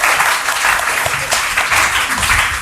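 An audience at a KBC-style school general-knowledge quiz game bursts into loud, sustained applause, a dense wash of clapping that holds steady throughout.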